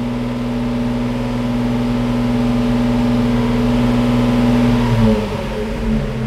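A car engine idles steadily with a low, even hum, then drops and sputters as it winds down near the end.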